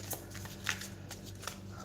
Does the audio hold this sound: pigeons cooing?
no